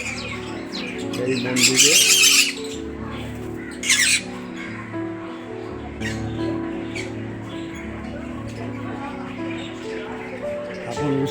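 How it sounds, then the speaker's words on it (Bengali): Birds squawk and call at a temple, with two loud bursts of calls early on and fainter chatter throughout, heard under nearby talking. "পাখিগুলো দেখুন কিচিমিচি করছে"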